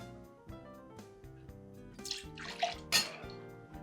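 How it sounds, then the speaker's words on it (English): Disaronno amaretto pours into the small tin of a Boston shaker, a quiet liquid trickle with metallic pinging tones, faint and close, ending in a couple of louder splashy glugs. "we're going to go ahead and add 2 ounces of Disaronno"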